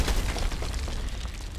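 A grenade goes off in the Contract Wars video game: one short, loud, low booming burst that fills the whole moment with rumbling noise.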